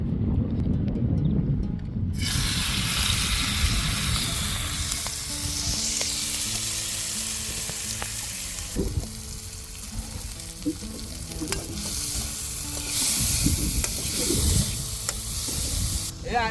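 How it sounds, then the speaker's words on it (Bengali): Turmeric-coated shrimp sizzle and fry in a pan outdoors, a steady loud hiss that starts abruptly after a couple of seconds and runs continuously, with low clatter of stirring and a voice speaking faintly underneath. "চিংড়ি মাছটা আসলে ভাজি করে রান্না করবে"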